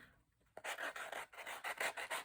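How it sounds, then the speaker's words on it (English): Rhythmic rasping strokes of sandpaper scuffing a handmade journal pen to give it a grungy look, close and fairly loud, about eight repeated rubs after a quiet start. "Now I'm just going to add a little bit of sanding to this."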